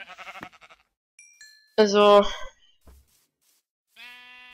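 Short sheep bleat from Minecraft, a harmonic wavering call near the start of a hardcore survival session, followed by a louder burst and other game sounds, with someone speaking German over the gameplay.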